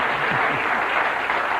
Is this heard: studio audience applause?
yes